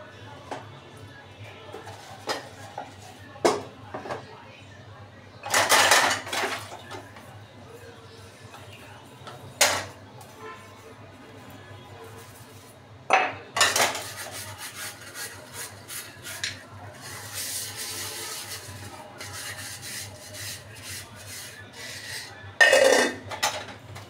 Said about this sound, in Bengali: থালাবাটিগুলো ধুয়ে নেব এখন।